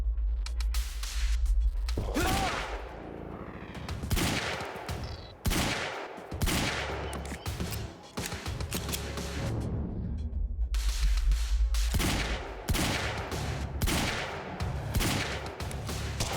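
Loud, dense gunfire in the video game Quantum Break, with sustained bursts and volleys of shots running almost the whole way, a short lull in the middle, then heavy firing again.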